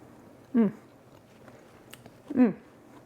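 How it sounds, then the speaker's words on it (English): Two soft bites into a slice of banana walnut bread, each a brief crunchy crunch spaced about two seconds apart, close and faint against a quiet room. "So I'm gonna take a little bite of this and try it out."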